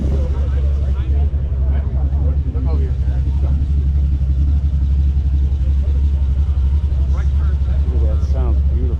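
A Ferrari sports car engine rumbles steadily at an outdoor car show, a deep continuous low-end drone throughout, with people talking faintly in the background.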